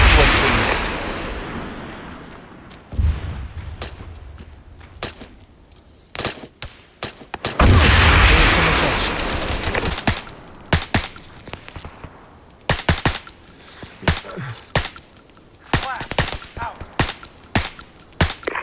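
Bursts of gunfire crack out repeatedly, some in rapid clusters, with heavy booming blasts mixed in and a voice talking between shots.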